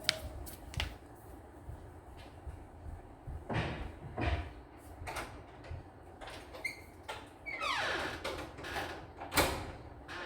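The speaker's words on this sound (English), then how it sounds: "Let me just open the door and come." A door at home is opened after the doorbell rang, with a series of knocks, clunks and a squeaky sliding scrape at close range, no talking.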